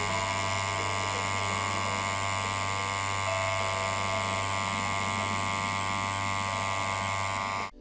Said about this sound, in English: Now I'm using a 3-round liner needle, and the machine settings stay exactly the same as before